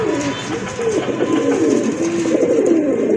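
Pigeons coo steadily at a large farm keeping local and foreign breeds, their soft, overlapping rolling calls continuous and close throughout, with faint background noise.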